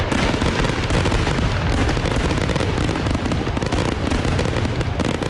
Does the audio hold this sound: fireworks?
yes